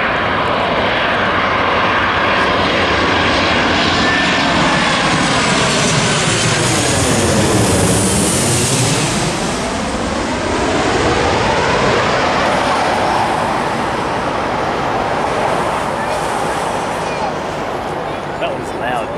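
Airliner jet engines roar through a takeoff, the loud broadband rumble rising and sweeping in pitch as the aircraft passes close by and then recedes, with people talking over the noise.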